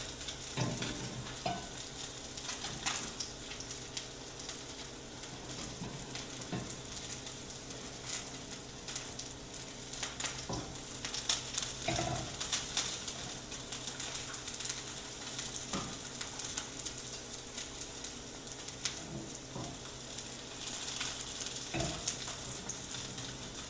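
A thin salmon fillet fries in a pan with a steady, close sizzle and crackle, broken by occasional scraping and utensil taps, running continuously without speech.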